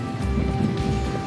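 Rain falls on a campsite along the Pine Mountain Trail in Georgia, a dense, even patter with close, slightly irregular drops and no voices.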